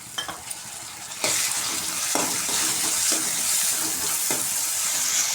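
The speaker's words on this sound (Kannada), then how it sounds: "ಈಗ ಈರುಳ್ಳಿ ಫ್ರೈ ಆದಮೇಲೆ ಸಣ್ಣ ಕಚ್ಚಿಟ್ಕೊಂಡಿದ್ದಂಥ ಒಂದು ಟೊಮೊಟೊ ಅದನ್ನು ಹಾಕೋಣ" Onion and chopped tomato fry steadily in oil in a pan for curry leaf dry chicken, a continuous close sizzle that jumps louder after about a second, with a few sharp scraping stirs on top.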